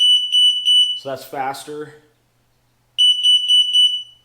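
A Tesla aftermarket power tailgate beeps while its speed is being set, a near, loud high-pitched tone pulsing in quick repeated beeps, pausing while a person speaks briefly, then resuming.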